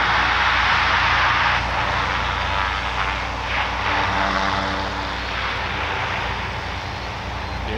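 Goodyear blimp Wingfoot One at Wingfoot Lake taking off, its propeller engines droning loud and close in a steady, slightly wavering roar that eases a little toward the end, without speech.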